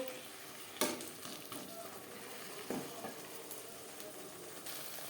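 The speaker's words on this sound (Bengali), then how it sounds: "পেঁয়াজ টমেটো রসুনের সাথে মশলা বেশ ভালো করে মিক্স করে দেব" Spices are stirred and fried in a pan with onion, tomato and garlic for a pangash fish curry: a steady soft sizzle broken by a few sharp scraping strokes of the spoon, with no talking.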